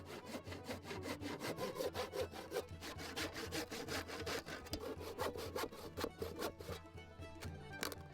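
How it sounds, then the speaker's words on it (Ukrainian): Steady back-and-forth strokes of a hand saw cutting through wood, fast and rhythmic, close and loud, with no talking. "Після чого відпилюємо все по лініях ручною пилкою"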